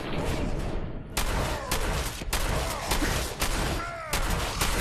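Shotgun blasts in the video game Fallout 4 come in a rapid series of sharp, loud bangs with short gaps between them, mixed with other combat noise.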